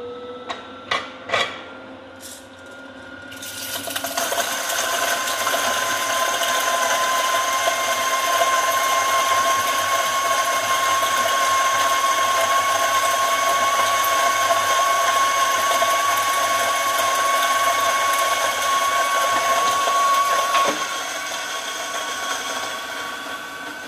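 Coffee beans are slowly fed into a grinder for a spring lever espresso setup. A few clicks come first, then a steady, fairly loud whine of the grinding burrs runs for about seventeen seconds before easing off.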